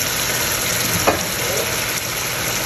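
Potatoes fry in a pan with a continuous close hiss and sizzle, broken by a short scrape or clink of stirring partway through.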